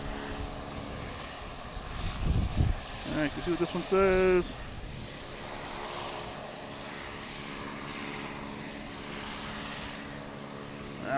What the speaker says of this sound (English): Gotta love these turboprops.